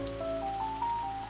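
Gentle rain patters steadily on studio windows in a cozy tea shop, a soft continuous wash of drops with a faint sustained tone gliding beneath it.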